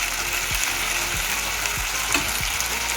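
Vegetables sautéing in a pan with water added, hissing as a steady, loud broadband sizzle throughout, with a few soft stirring scrapes, no voices.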